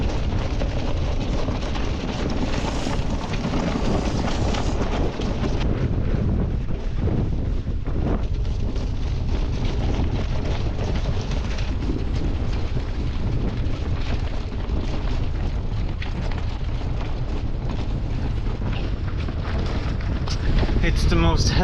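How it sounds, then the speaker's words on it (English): Strong winter wind on the Kattegat in Sweden buffets the microphone in loud continuous roaring gusts while a sailboat with no engine is readied for sailing. "It's quite windy."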